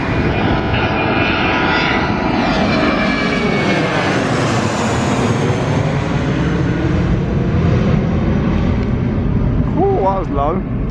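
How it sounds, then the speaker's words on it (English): Airbus A320 airliner taking off, bound for Hungary, its jet engines roaring loud and close throughout with a sweeping pitch as it passes overhead; a brief chirping bird-like sound near the end. "off with the A320 off to Hungary"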